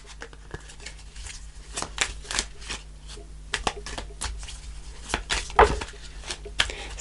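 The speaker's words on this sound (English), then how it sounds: "I'll just shuffle a bit longer." Tarot cards shuffled by hand in a quiet room, a string of crisp riffling and slapping bursts with uneven pauses between them, close and fairly faint.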